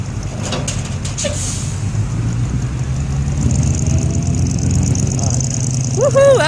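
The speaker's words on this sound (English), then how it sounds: "a Chevrolet pulling a 18-wheeler. Peterbilt." A Chevrolet pickup tows a broken-down Peterbilt 18-wheeler tractor trailer, its engine a steady, loud, low rumble with road noise that builds slightly, while people talk and exclaim over it.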